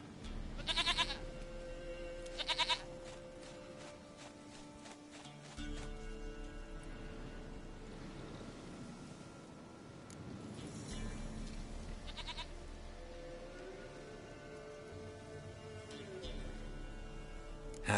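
Goat bleats recur over a soft game score in The Witcher Wild Hunt video game, with sharp clicks at the start and no talk.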